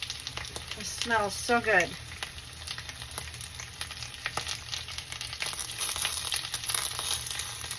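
Cabbage pillows fry in olive oil in a pan with a steady close sizzle and scattered pops and spatters throughout, while a person speaks briefly near the start.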